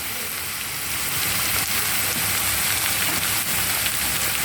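Sliced onion going into a pan of frying potatoes for vegetable chowmein, a dense continuous sizzle and crackle that rises slightly as the onion hits the hot oil, close and steady, with no voices.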